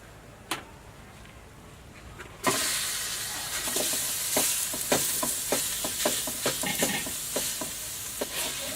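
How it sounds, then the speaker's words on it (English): Half a kilo of lean beef mince fries in a pot on a stovetop, with a steady close sizzle and a series of sharp scraping and stirring clicks repeating every half second or so; no talking. "You're just going to fry it off until it goes nice and brown"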